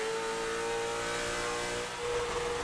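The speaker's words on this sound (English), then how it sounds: "you can hear the car on its limiter going down the front stretch" In a racing video game, a late model race car runs down the front stretch at Thompson Speedway, bouncing off its rev limiter as a constant, buzzing, high-pitched engine drone that stays steady and loud throughout, with no talk over it.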